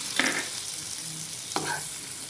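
Maida flour being stirred into melted butter in a pan, with two distinct scraping stirs against a soft background sizzle, close and fairly quiet with no talking.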